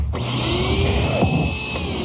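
Vacuum cleaner running with a steady whine and motor hum, its pitch sliding and shifting midway as if the nozzle is moved or blocked, alone without voices.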